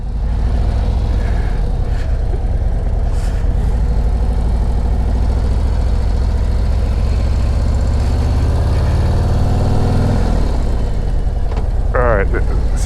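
A 2024 Harley-Davidson Road Glide motorcycle engine rumbles loud and steady while riding, with a deep low drone that shifts in pitch as gears change, heard close and continuous throughout.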